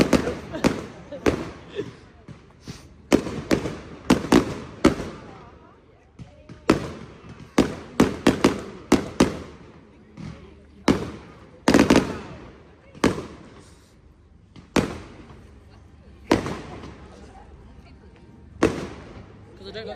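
Bonfire Night fireworks explode in a rapid irregular volley of sharp bangs and cracks, some close and loud and others fainter, with short pauses between bursts and quiet ambience in the gaps.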